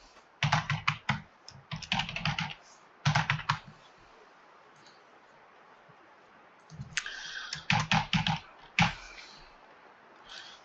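Fingers type on a computer keyboard in close, quick bursts of clicking keystrokes separated by short pauses, with no voices, while an account and password are set up.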